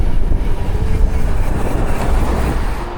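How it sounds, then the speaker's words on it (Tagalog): A train rumbles past in Taiwan with a loud, continuous low roar and rattle, heard close from the roadside during a bike tour. "May tren"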